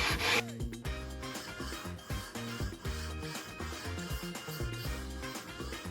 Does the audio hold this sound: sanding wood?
yes